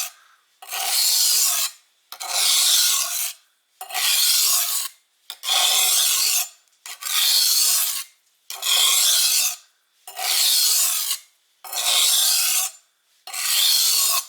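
A blade scraped back and forth on a Norton IM313 Tri-Stone sharpening stone in nine even, rhythmic strokes with short pauses between, close and clear, no voices.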